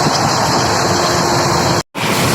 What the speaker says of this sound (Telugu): 110 కిలోమీటర్స్ పర్ అవర్ స్పీడ్ అయితే క్రూజ్ చేస్తున్నాడు మా ట్రైన్